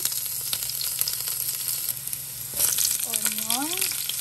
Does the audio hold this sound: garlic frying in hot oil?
yes